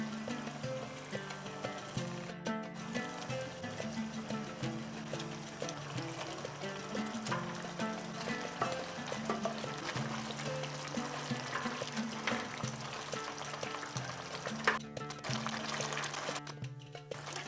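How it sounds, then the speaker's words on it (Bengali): Pieces of fish go one by one into a bubbling fish curry gravy, with soft splashes over a continuous close simmering burble. "গ্রেভি ভালো করে ফুটে ওঠার পরে মাছগুলো একে একে দিয়ে দিচ্ছি।"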